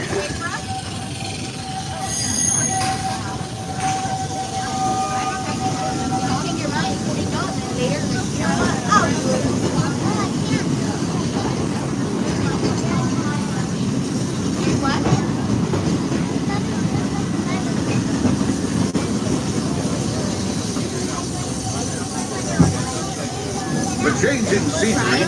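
Big Thunder Mountain Railroad, the runaway mine train ride at Magic Kingdom, rumbles and rattles along its track in a steady, close-up clatter, with a recorded spiel and rider voices talking over the noise.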